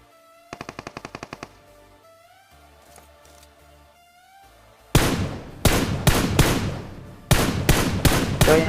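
In a PUBG-style shooter, a quick distant burst of small rapid shots is followed by quiet game ambience. Loud, close single-tap gunshots then ring out, about six spaced cracks with echoing tails.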